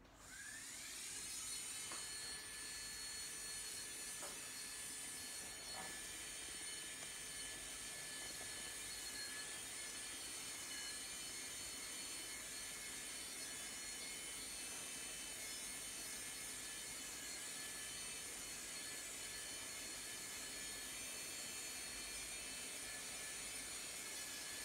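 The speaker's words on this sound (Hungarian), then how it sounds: "Milyen fordulatszámon van most kb. A csiszológéped? Hát majdnem maximumon." An electric nail file grinder runs near maximum speed while sanding nails in a salon, giving a steady, high-pitched whine that holds unbroken for the whole stretch at moderate, close level.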